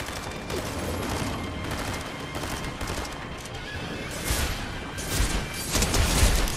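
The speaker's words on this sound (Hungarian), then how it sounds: "Ott lövöldöznek." Gunfire in the video game Fortnite, rapid bursts of shots and volleys popping at varying distances, growing louder toward the end with heavier reports, with no talking over it.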